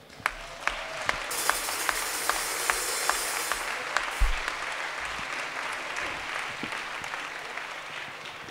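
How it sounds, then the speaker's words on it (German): A concert audience at a country music festival in Zürich applauds continuously, a dense wash of clapping hands with a few louder individual claps standing out, filling the room throughout. "Wir danken allen von der technischen Crew und vor allem dir, Christoph, mit dem Applaus."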